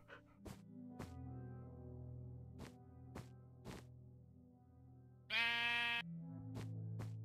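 A pink sheep in a video game lets out one loud, drawn-out bleat, set against a steady backdrop of game music and several sharp, scattered thunks.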